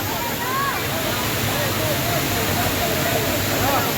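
Water pours steadily at Taytay Falls, a broadband roar that fills the whole clip, with faint voices and crowd chatter mixed into the rushing sound.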